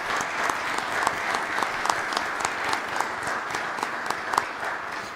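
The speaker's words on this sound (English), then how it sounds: "So if you would give all these people a round of applause" A crowd applauds steadily, dense clapping filling the whole stretch with sharper individual claps popping out, moderately loud and close.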